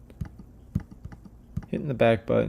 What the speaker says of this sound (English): I'm just hitting the back button